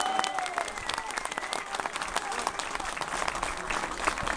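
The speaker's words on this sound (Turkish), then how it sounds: "Siz de alkışlarınızla varız diyorsunuz." A crowd at a political campaign speech in Büyükesence bursts into sustained, dense applause, an even roar of many hands clapping that fills the whole stretch with no speaking.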